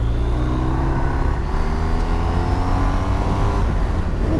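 A BMW R1250RS motorcycle engine pulls hard under acceleration, a steady loud rumbling drone with rising harmonic tones throughout, heard continuously up close with no voices.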